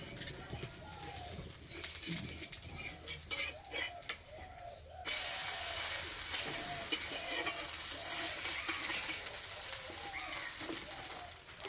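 Flattened rice and rice flour snacks fry on a low flame, a soft steady sizzle that grows fuller and brighter partway through, with faint stirring and occasional birds cooing in the background.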